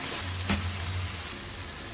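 Spice masala frying in oil in a pot, a steady close sizzle and bubbling hiss with one brief stirring clatter early on, no voices over it.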